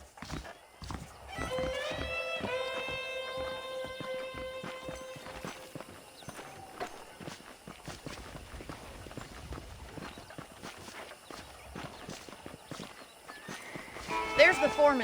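Horse hooves clip-clopping in Red Dead Redemption, running on PC with ultra settings, a steady walking rhythm under a man's speech, with a whinny near the start and louder sounds at the close.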